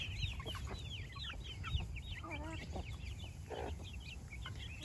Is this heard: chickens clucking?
yes